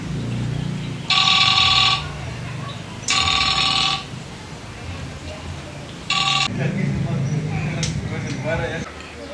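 A telephone rings in three loud bursts with pauses between them, in a comic Sundanese short-film scene, with background noise and some talk nearby.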